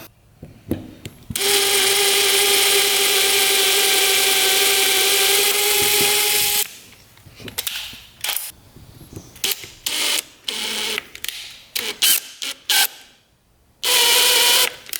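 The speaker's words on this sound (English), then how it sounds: "We're going to have to drill it out." A power drill whines steadily for several seconds at close range while drilling out a stuck needle in a Honda ATV carburetor, then runs in short bursts with gaps, ending with another brief high-pitched spin.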